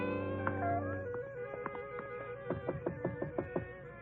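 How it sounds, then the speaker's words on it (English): A gray Persian cat meowing near a ranch-type home, with a drawn-out tonal cry followed by a string of shorter rising and falling calls, fairly close and heard alone. "A gray Persian cat followed us."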